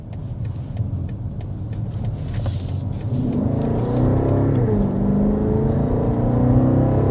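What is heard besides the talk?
2026 BMW X6 V-8 accelerating quickly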